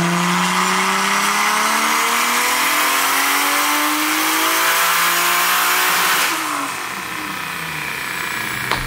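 A BMW E92 running on a dyno, its engine held loud and steady under load, then easing off near the end with a short drop in level.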